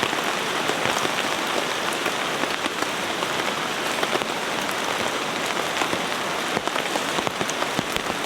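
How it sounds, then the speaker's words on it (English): Heavy rain drums on a tent at a camp in a downpour, a dense and constant close patter with scattered louder drops throughout and no talking. "which means going back out into this rain"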